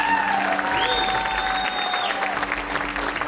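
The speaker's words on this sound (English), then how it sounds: "So give them a round of applause." A concert audience applauds steadily after the band members are introduced, a dense wash of clapping with a sustained electronic tone or feedback sweeping through it.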